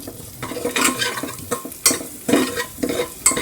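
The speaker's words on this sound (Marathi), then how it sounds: "आता जे कांदा टोमॅटो प्युरी भाजायला घेतलं त्यात थोडंसं तेल घालायचं एक दोन चमचे आणि चांगलं परतायचं" Onion and tomato puree sautéing in a little oil in a pan, with a soft sizzle under rhythmic stirring strokes of a spoon at close range, no talking.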